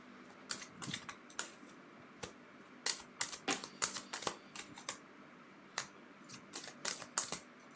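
An oracle card deck is cut and shuffled by hand, giving a run of crisp, close card snaps and riffling clicks at an irregular rhythm, alone without talk.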